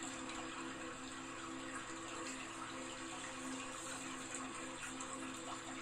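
A waterfall with water flowing, a continuous, even rush that holds steady throughout, faint and soft with no other sounds standing out.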